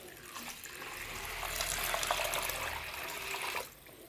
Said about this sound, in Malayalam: നല്ലോണം പച്ചവെള്ളം ഒഴിച്ച് കൊടുക്കുന്നുണ്ട്